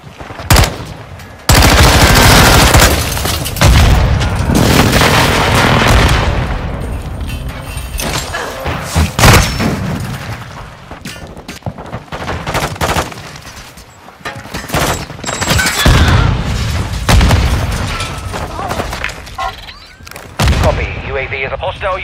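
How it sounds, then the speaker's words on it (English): Airstrike explosions and heavy gunfire in a first-person shooter game, loud booming blasts and rattling automatic fire in dense, repeated bursts with brief lulls, and a voice speaking over the battle. "Friendly airstrike in the AO."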